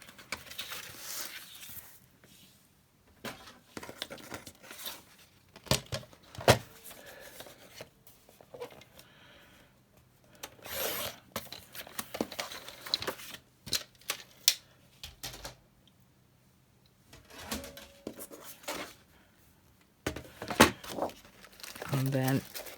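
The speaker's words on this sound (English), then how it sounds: "my A4 paper is obviously too long, so I'm going to trim that down to size" A4 paper being trimmed to size with cutting strokes and crinkly paper handling in bursts, pausing between passes, close and fairly quiet, with a voice talking between them.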